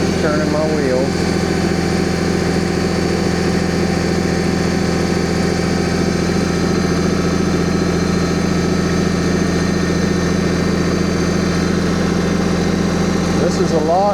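A tractor engine idles low and steady as the machine backs up slowly with a heavily loaded bucket raised high, a constant mid-pitched rumble with faint mechanical whine running throughout.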